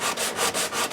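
Wood being sanded at the center of a 14-inch compound radius guitar nut, a steady close scrubbing rasp in rhythmic back-and-forth strokes with brief dips between passes.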